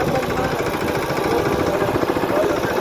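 A tractor engine chugs steadily and loudly up close, a continuous low rumbling throb with rapid knocking pulses.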